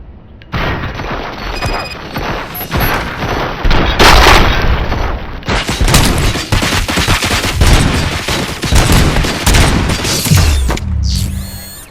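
Sustained heavy gunfire in the video game Robocop: Rogue City, loud rapid bursts and booms rolling continuously for about ten seconds, with no talking.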